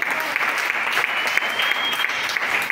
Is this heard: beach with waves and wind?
no